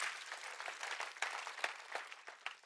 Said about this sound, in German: lass uns heute einen Applaus geben unserem Gott